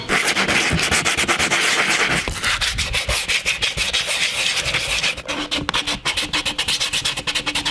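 A handheld router cuts a recess into wood, making a loud, continuous, rough grinding rasp close up that wavers slightly in strength throughout.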